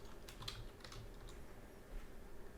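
Quick bursts of typing on a computer keyboard, several light close key clicks in a short run with pauses, faint and alone without talk.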